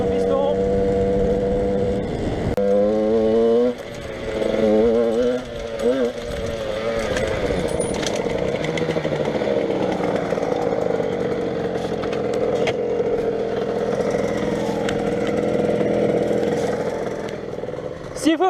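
Yamaha DT 125 two-stroke enduro motorcycle, freshly rebuilt with a new piston and still being run in, buzzing steadily at close range with rising and falling revs throughout, while a voice sings and talks over it.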